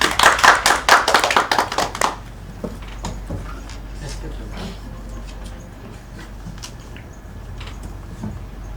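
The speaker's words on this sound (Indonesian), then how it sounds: "tepuk tangan tuh Mbak Mila." Classroom applause during a microteaching lesson: a short burst of many hands clapping lasts about two seconds, then fades into quieter room noise with scattered taps and shuffling.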